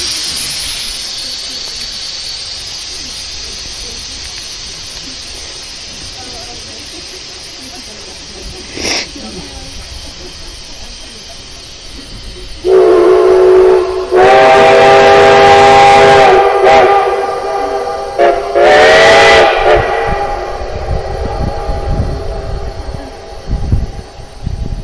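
Steam locomotive engines stand before departure: a faint steady hiss, a brief sharp burst, then loud whistle blasts and hissing surges arrive near the end, a voice talking faintly in the background.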